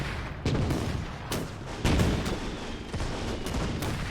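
Mortar fire in the World War II strategy game Gates of Hell, set in a 1941 Soviet defense outside Moscow: repeated heavy booming reports at irregular intervals over a dense, continuous battle din.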